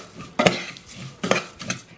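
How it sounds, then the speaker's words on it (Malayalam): A metal spoon stirs vermicelli (semiya) in a pan, giving three sharp clinks and scrapes against the metal over a faint low sizzle, close up and without talk. "സേമിയ ഞാൻ ഇതിലേക്ക് ഇട്ടിട്ട് ഒന്ന് ഇളക്കി കൊടുക്കുകയാണ്"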